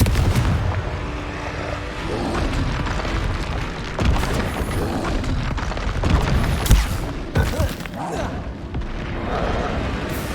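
Confringo fire-blast spells cast in Hogwarts Legacy combat explode as loud, repeated booming bursts that crack out one after another over a busy battle din.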